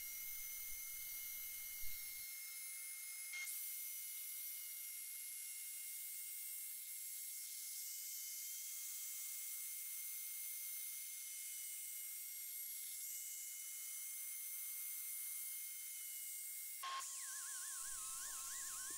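A small right-angle air-powered sander works over a wood burl, producing a continuous high airy hiss and whine that runs steadily for most of the stretch, with a brief interruption near the end and no speech.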